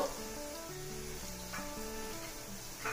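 Green chilli slits and turmeric frying in a pan for a fish curry. A steady, fairly quiet sizzle runs throughout, with faint tonal background sounds underneath.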